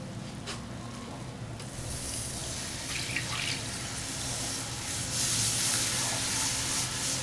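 Milk pours steadily into toasted flour for béchamel, a continuous hissing splash that swells partway through and again toward the end.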